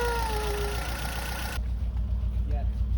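A BMW E36 engine idles on its own power after six years dead, a steady low mechanical rumble heard close, with a brief voice over it and a sharp change in tone partway through.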